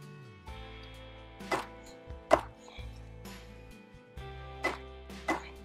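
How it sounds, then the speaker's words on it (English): A TOPS Moccasin Ranger knife chopping on a board, several sharp separate thunks at an uneven pace, close-up over a steady low hum, with no speech. "the Moccasin Ranger is more than capable of slicing, dicing, cutting, chopping, all of the above"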